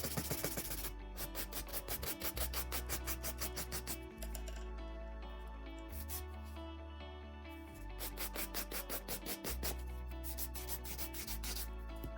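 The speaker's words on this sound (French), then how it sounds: "je vais faire tout le dessus à la lime" A nail file rubs steadily across the top of an almond-shaped artificial nail form, giving a continuous rhythmic rasping with short regular strokes and brief pauses, close and clear with no talking.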